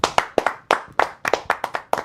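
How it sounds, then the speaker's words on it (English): A small group on a live breakfast show claps in sharp, separate bursts, about ten crisp near hand-claps in an uneven rhythm with brief silences between them. "let's clap for format"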